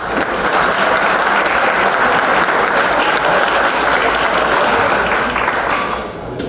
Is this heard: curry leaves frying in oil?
no